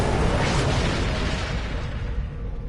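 A starship's weapons fire during a space battle in Star Trek Online, a dense, continuous roar of booming, explosive energy blasts that stays loud throughout before easing slightly near the end.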